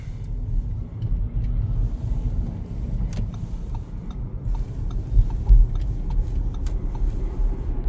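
A black 2022 Audi e-tron Sportback 55 S line electric car on a short test drive gives a steady low road rumble and tyre hum heard from inside the cabin, with a few light clicks and bumps.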